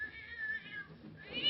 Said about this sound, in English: That cat sounds as if it's under the bed.